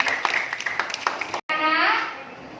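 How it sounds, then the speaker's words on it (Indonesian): A classroom group claps briefly in scattered, uneven rhythm, then after a short cut a voice speaks. "tepuk tangan untuk Anissa"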